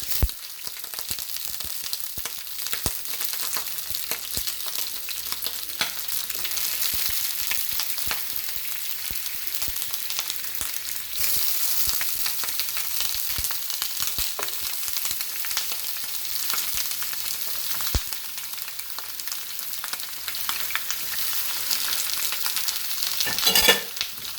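Chicken fries in hot, spattering oil for guajillo chicken, a steady, dense sizzle with constant crackling pops. It stays close and fairly loud throughout, and no one speaks.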